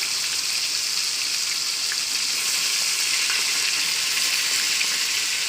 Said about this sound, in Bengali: মাছের মাথাগুলো ভাজা করে পরে ফিরে আসছে।